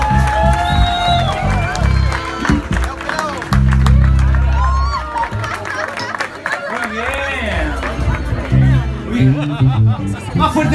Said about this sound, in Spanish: Más fuerte el aplauso, por favor.